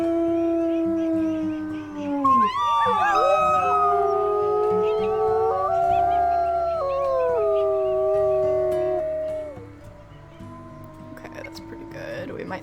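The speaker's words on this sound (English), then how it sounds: "do a howl, boost our territory a bit." Wolves howl in the WolfQuest: Aurora Pack video game, several long, overlapping howls rising and sliding in pitch, loud and close, fading near the end.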